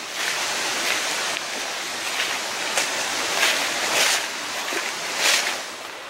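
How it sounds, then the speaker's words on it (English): Steady rushing water of a flowing creek beside a trail on the E&N Railway's Beaufort Slope, a broad continuous wash with gentle surges, fairly close. "And I can hear a creek."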